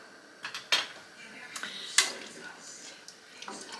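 Beef stew stirred in a metal pot, with scattered clinks and scrapes of a utensil against the pot's side, sharp knocks near the start and middle, close and moderately loud.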